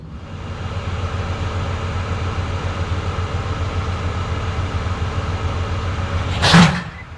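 Freight train in a Green Bay Route simulator game, running with mechanical reefer cars, gives a steady low rumble and rolling drone throughout, with a brief louder clank or hiss burst near the end.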